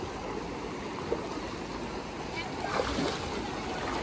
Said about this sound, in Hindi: सो भाई ये देखो पानी में आ रहे हैं और बहुत ही ठंडा पानी है